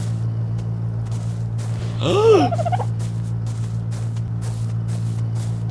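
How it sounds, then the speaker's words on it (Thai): A newly hatched baby dodo in the game ARK: Survival Evolved lets out a single short warbling, chirping call that rises and wavers, over a constant low electronic hum. "นี่มันลูกนกโดโดนี่วะ"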